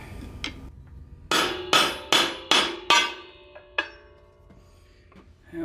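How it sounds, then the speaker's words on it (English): Hammer blows knock rusted brake parts off a 1955-1964 Ford tractor: five loud, ringing metal strikes in a steady rhythm, then a couple of lighter taps, close by with no talking. "You have to sometimes hammer them off and everything else just to remove them."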